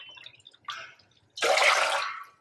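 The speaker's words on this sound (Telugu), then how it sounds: "వాటర్ పోస్తున్నా" Water poured into a cooking pot, a short splash followed by a steady rushing pour lasting about a second, close and fairly loud.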